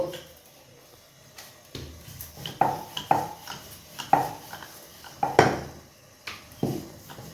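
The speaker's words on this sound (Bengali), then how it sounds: "এইভাবে আমি একে একে সাতটা রুটি বেলে নেব" A rolling pin works roti dough for khaja on a hard board, giving repeated knocking thuds and scrapes at an uneven pace, close and fairly loud, with some kitchen clatter.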